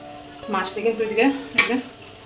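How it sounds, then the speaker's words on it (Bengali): Fish head frying crisp in a pan with onion and green chili: a soft, steady sizzle with stirring and a sharp metallic clink of a utensil against the pan near the end. "এখানে মাছের মাথাটি পেঁয়াজ দিয়া কাঁচা লঙ্কা দিয়া একদম মশমশা করে ভাজা"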